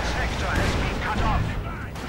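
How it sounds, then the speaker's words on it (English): Heavy gunfire and an airstrike in Company of Heroes 2, a continuous wash of loud explosions and rattling shots filling the whole moment with dense battle noise. "And we see him calling in an airstrike to support his advance."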